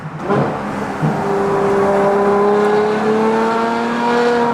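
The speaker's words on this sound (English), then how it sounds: "I cannot believe that I have a car that sounds like this." A Ferrari fitted with a tuned F1-style exhaust accelerates loudly and close by in a tunnel, its engine note climbing in a rising, screaming whine that holds for several seconds.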